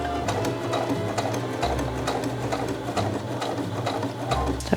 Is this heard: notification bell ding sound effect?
no